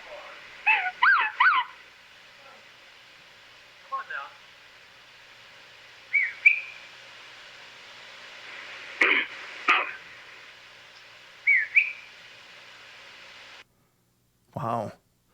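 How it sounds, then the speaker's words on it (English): Whistle interaction sequence recorded outdoors: short whistled calls and answering whistles trade back and forth at intervals, with quiet gaps and a few harsher bursts, the exchange sounding moderately distant over a low hiss. "he would whistle and the thing was whistling back, and that was an interaction sequence"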